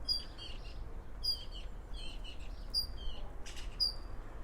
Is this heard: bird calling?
yes